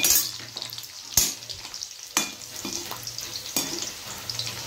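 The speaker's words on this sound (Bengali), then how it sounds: "এখন একটু কাজু কিশমিশটাও একটু গরম করে নিলাম।" Cashews and raisins fry in hot oil with a soft, continuous sizzle, broken by several sharp stirring scrapes of a utensil against the pan, close and fairly quiet, with no voices.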